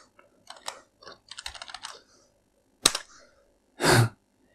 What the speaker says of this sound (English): Let's just try keyboard, just to prove it's all working.